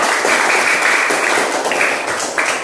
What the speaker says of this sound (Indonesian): silakan dulu tepuk tangan buat kelompok 3